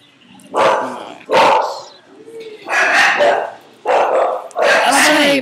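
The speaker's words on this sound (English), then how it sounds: "My dogs are barking." Dogs barking at home, a series of loud, close barks in uneven bursts with growly edges, spaced by short gaps.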